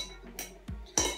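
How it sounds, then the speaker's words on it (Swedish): Two butter knives and a fork clink against each other and dishes in a kitchen, a few sharp metallic taps spread out over a second with quiet room tone between them. "Jag ska ha 2 smörknivar i. Och ska ha 1 gaffel."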